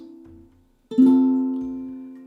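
A ukulele plays a song with single down strums on each chord change: a short strum fades out, then after a brief gap a louder strum rings and decays slowly. No talking.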